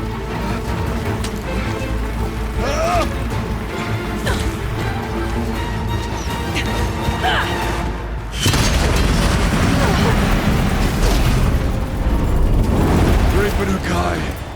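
Explosions from explosive ammo in the Horizon Zero Dawn video game, heavy booms and bursts over a dense mechanical din, growing louder and fuller in the second half, with voices heard in the mix.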